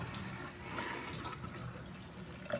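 Collard greens rinsed under a running kitchen tap, a steady close splashing and trickling of water that holds throughout with no talking.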